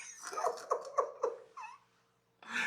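A puppy gives a quick run of high, thin whimpers and yips, then goes quiet briefly before one more whine rises at the end.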